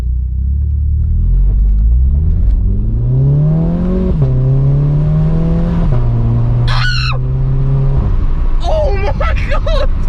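A Vauxhall Corsa fitted with a new exhaust accelerates up through the revs, its loud droning note rising and dropping between gear changes, close and dominant, with brief excited shouting near the end.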